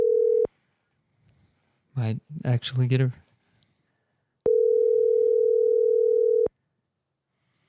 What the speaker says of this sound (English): Oh, it's ringing.